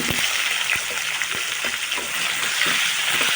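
New potatoes fry in hot oil for a chicken leg curry, giving a loud, dense, watery hiss with bubbling crackle throughout and no talking.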